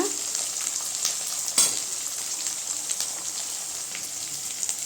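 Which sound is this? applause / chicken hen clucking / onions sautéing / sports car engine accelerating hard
onions sautéing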